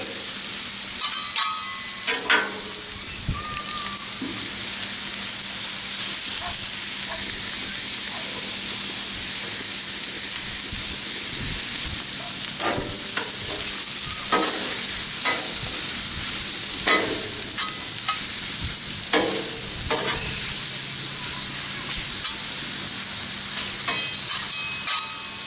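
Cheesesteak ingredients sauté in butter on a Blackstone griddle, giving a steady, loud sizzle and hiss throughout with occasional scraping and stirring clicks from a spatula; no talk.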